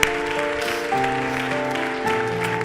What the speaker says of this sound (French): On les applaudit, on les encourage maintenant.